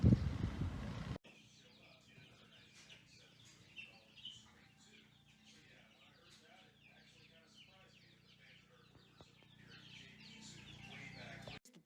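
Hens cluck softly and continuously on a small homestead acre in spring, with quiet scattered chirps at a fairly low level. The clip opens with a brief loud rumble before the clucking settles.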